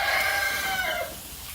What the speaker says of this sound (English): One of our roosters decided to chime in.